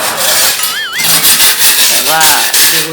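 Hand scraping of old paint from a bedroom wall during a home renovation, a continuous rough rasping that is loud and close, with people talking over it.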